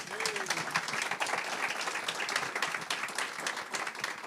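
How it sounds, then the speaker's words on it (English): Audience applause for a panel of a sheriff, a judge and a prosecutor, a dense steady wash of clapping filling the whole span with a brief voice near the start. "let's give our panel a round of applause."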